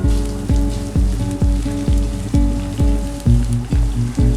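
Crushed ginger and garlic hitting hot oil in a pan for restaurant-style daal mash, crackling loudly and up close in rhythmic surges, with a sharp burst about every half second.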